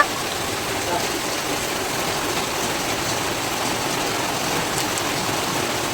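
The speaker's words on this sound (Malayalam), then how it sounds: "നല്ല മഴയാണ് നല്ല നല്ല മഴ" Heavy rain pours down in a constant, dense hiss that stays loud and even throughout, with no pauses or voices.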